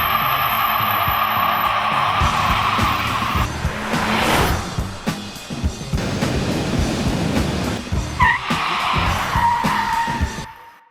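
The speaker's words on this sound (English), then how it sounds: "Sounds like tyres screeching." Car tyres screech under braking from about 60 km/h, a long rising skid with shifting squeals and a harsher burst near the end, loud and close with no talk.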